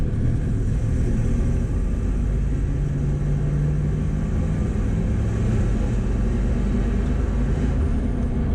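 A 1963 Chevrolet Corvette Split Window coupe's engine rumbles low and steady from inside the cabin during a downshift to second gear, a constant droning hum with no voices.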